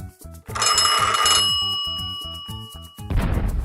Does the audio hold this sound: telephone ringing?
yes